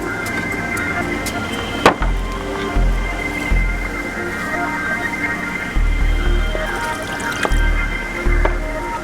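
Water is poured into a cooking vessel in a home kitchen while tofu butter masala is prepared, coming as several low gurgling splashes in short bursts, with a few sharp clicks in between.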